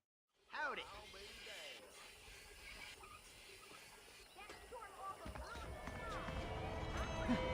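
Horse hooves clip-clop in a video game, a steady trotting patter under background game sounds and tonal chirps, moderately close and rising slightly in level.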